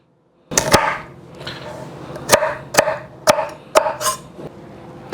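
Knife chopping carrots into small pieces on a cutting board, six or seven sharp separate thwacks spaced unevenly, close and loud with quieter scraping between cuts.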